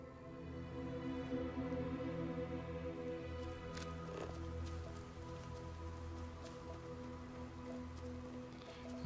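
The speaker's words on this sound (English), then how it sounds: "Oh, it's raining." Rain falls in Starfield on a hilly planet, a steady soft patter over low ambient music, with a few faint footstep-like taps near the end.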